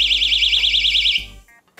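A personal safety alarm shrieks with a loud warbling high-pitched tone after its pin is pulled, sounding for about a second before cutting off abruptly.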